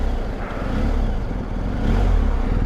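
A BMW R1250 GS Adventure motorcycle engine revs steadily in a continuous, fairly loud drone with rising and falling RPM, wind noise mixed in, and no talking.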